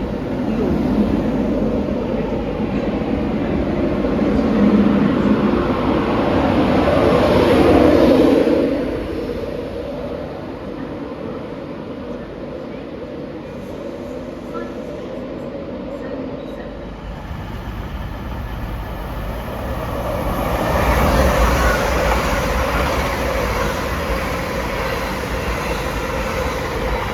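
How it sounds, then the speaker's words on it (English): A train pulls in at a platform at Doncaster railway station, a low rumbling roar that swells, eases and swells again with steady broadband noise, heard alone without talk. "The next train to arrive at platform 4 will be the 1921 cross-country service to York."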